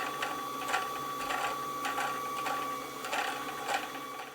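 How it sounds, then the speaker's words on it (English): A Janome Atelier 7 sewing machine winds a bobbin with a steady, close mechanical whir and repeated soft ticking pulses. "And your bobbin will wind."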